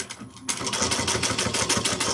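A sewing machine stitches around a small bag piece, starting after a short pause and then running in a fast, even rhythm of close mechanical clatter.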